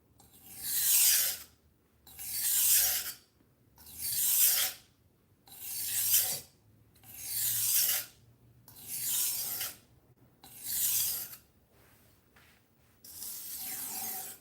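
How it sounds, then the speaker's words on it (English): A budget knife rasps across a whetstone in eight long, even strokes about two seconds apart, each a loud gritty scrape followed by a brief pause, the last stroke softer and more drawn out. "So supposedly you're not supposed to sharpen in the slurry."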